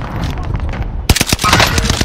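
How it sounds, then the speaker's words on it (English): Video game gunfire cracks out in a quick burst of close, loud shots after a short stretch of muffled background noise, each report sharp and closely spaced. "She starts shooting as soon as I'm trying to pick up the loadout."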